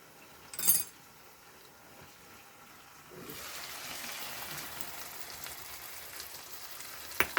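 Water-mixed spice masala with Kashmiri chilli and coriander-cumin powder poured into hot oil; a brief splash, then a soft, steady sizzle starts and holds, fairly faint, with a couple of small clicks near the end.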